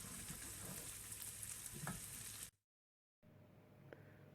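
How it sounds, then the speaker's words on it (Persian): Spices frying in a pan for mushroom pirashki while being stirred, a close, soft sizzle with light scraping, cut by a brief silent gap before a quieter sizzle resumes. "حالا یه مقداری هم میزنم تا عطر ادویه‌جات در بیاد و فضای آشپزخونه رو پر کنه"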